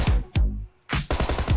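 Rapid automatic gunfire from the mobile battle-royale game Peace Elite (PUBG Mobile) comes close and loud in two bursts of shots separated by a short silence.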